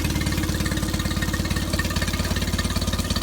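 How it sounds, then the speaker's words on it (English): A 2007 Mercury 8 HP four-stroke outboard motor runs steadily, a loud, close, even mechanical thrumming with a regular pulsing beat throughout. "Not a bad running motor."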